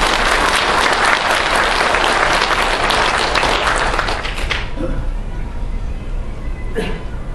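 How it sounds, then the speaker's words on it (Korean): Audience applause after a speech at a lecture, dense and loud clapping for about five seconds before thinning out, with a few scattered claps and faint voices at the end. "다시 한번 박수를 보내주시고요."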